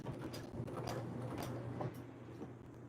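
A sewing machine back stitching a hat strap, a low mechanical whir with rhythmic clacking needle strokes that quicken and then stop, quiet and close with no talk.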